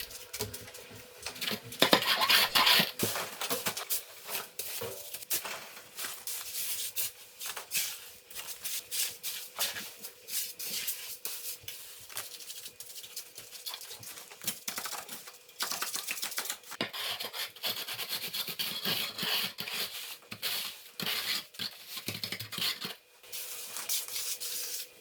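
An aluminium straightedge is pulled across wet floor screed along guide rails, giving repeated rough scraping and rubbing strokes with short pauses between passes.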